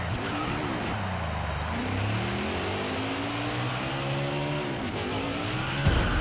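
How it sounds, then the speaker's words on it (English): A stock car from a modded NASCAR Heat 5 race performing a burnout, its engine droning steadily and revving under a continuous wavering tire squeal, loud and sustained throughout. "As we're wrapping up this burnout here"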